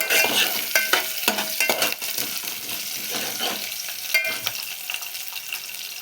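Dried red chillies sizzle in hot oil for a tomato rasam, with a spoon scraping and stirring through the pan in a steady series of close scrapes over a constant crackling hiss.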